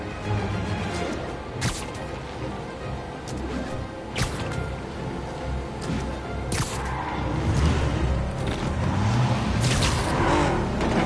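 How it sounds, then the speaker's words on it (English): A car drives in the Spider-Man video game, with a continuous engine rumble broken by several sharp whooshes and impacts spread through the passage. "Now I just have to stop that car."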